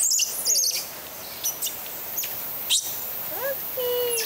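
Tiny monkeys in Panama give short, high bird-like chirps and whistles, scattered in quick bursts against a quiet outdoor background.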